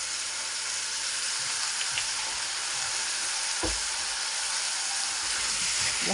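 Beef with onions sizzles steadily in a pan as it is stirred, a close, continuous frying hiss broken by occasional scrapes and knocks of the utensil, with no speech.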